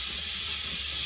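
Steam vents from a digital pressure canner while ketchup is being canned, making a steady, loud, close hiss with a faint low rumble beneath it.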